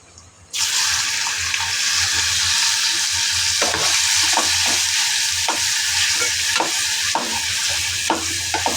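Prawns are dropped into homemade masala and set off a sudden, loud frying sizzle that holds steady. Intermittent scrapes and stirring taps sound over it, with no speech.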